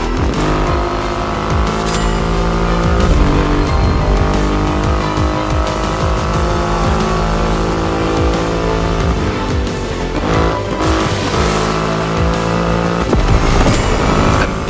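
Triumph Rocket 3 motorcycle with a 2.5-litre engine, driven in the racing game The Crew Motorfest: a steady, loud engine drone holds for the whole stretch, with rising and falling revs and a brief burst of tyre and road noise near the end.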